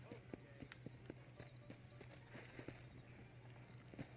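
Horse hooves clip-clop at a steady walking pace in the Red Dead Redemption video game, the soft regular beats sitting over a low steady hum and quiet background game ambience.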